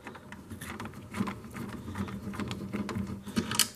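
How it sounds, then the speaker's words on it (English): A Phillips screwdriver turns out a screw from the casing of an 8-track player, giving quiet, close ratcheting clicks and faint scraping in short bursts, with no talking. "take out 1 screw."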